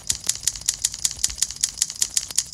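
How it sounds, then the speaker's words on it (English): Keys clack on a keyboard in a fast, even run of sharp, close taps, about six a second, with no voices over them. "I'm gonna type some words."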